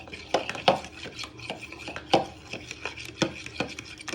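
Wet banana and chocolate chip muffin ingredients are whisked in a bowl, a quick irregular series of close clinks and taps of the whisk against the bowl with a soft swishing between them.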